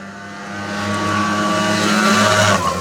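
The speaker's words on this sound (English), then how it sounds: "Runs like a brand new motor because, well, everything's brand new in the engine" A freshly rebuilt Yamaha BW80 motorcycle engine idles steadily close by, its tone rising slightly as it revs, with a constant mechanical hum and no voices.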